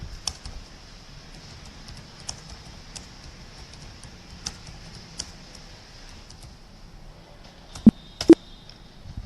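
Sparse, quiet keystrokes on a computer keyboard while entering text in Tally accounting software, scattered single clicks with a couple of sharper taps near the end over a faint hum.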